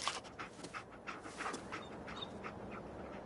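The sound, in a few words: dog Dogmeat panting in Fallout 4 video game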